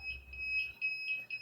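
The buzzer of an ESP32-based automatic parking system sounds a shrill electronic tone in rapid repeated pulses, with no talk.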